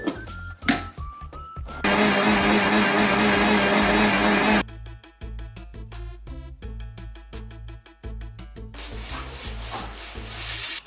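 An electric mixer grinder whirs loudly in bursts, grinding coconut, shallots, garlic, cumin, turmeric powder and green chilli with water into a paste. Rough grinding roars alternate with shorter pulses over a faint music bed.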